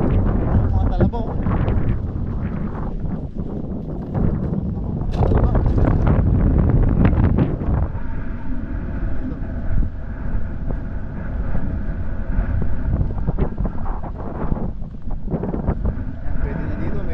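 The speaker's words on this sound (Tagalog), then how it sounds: "pasensya na po at medyo mahangin" Strong outdoor wind buffeting the microphone in loud rumbling gusts that continue throughout, with a voice heard faintly under the roar.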